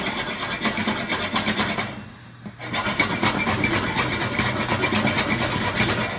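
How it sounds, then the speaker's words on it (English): Parboiled potatoes rattle and tumble in a covered pan over high heat, a continuous rough rhythmic shaking with one short pause before it resumes, close and fairly loud. "Return them to the pan, and then over a high heat with the lid on, give it a shake"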